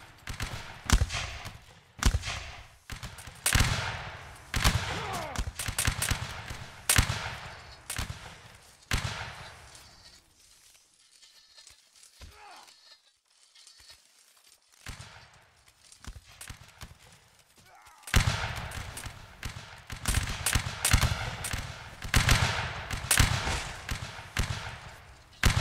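Musket volleys crack and rattle in a Napoleonic Wars line battle in the video game, dense and loud at first, thinning to sparse distant shots in a lull, then resuming as heavy rapid fire.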